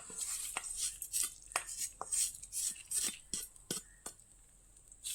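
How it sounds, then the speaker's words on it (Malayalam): Curd rice with a curry-leaf and asafoetida tempering stirred in a steel vessel: a spoon clinks and scrapes in quick, irregular strokes, close and fairly bright. "നന്നായി ഇളക്കി കൊടുക്കുക."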